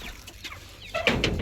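Hens in poultry cages give a few quick, close clucks in a brief burst, with a louder pair of calls toward the end.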